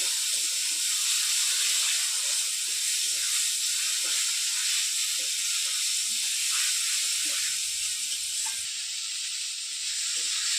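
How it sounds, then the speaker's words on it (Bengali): Pointed gourd paste sautés with spices in a pan, a loud, steady, close hiss of sizzling oil that runs unbroken with faint crackles beneath and no talk. "ভালো করে আবার একবার মশলার সঙ্গে কষে নেবো"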